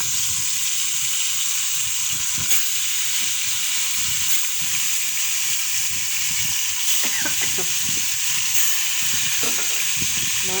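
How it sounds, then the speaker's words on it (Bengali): Potatoes and onions fry in hot oil with a loud, continuous sizzle and hiss, broken by occasional scraping and stirring clatters of utensils close by. "আলু পেঁয়াজ কই? হ্যাঁ দাও, ওটা সব দিয়ে দাও। একটা একটা করে ভাজা লাগবে।"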